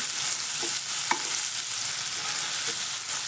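Chopped onion and green chilli frying in hot oil in a pan, a steady close sizzle with a few soft stirring knocks and no talking.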